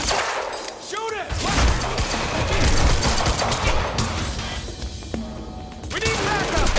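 Gunfire from a shootout in the video game Quantum Break, dense bursts of shots and impacts crashing continuously through the whole stretch, loud and close, with voices shouting over the battle.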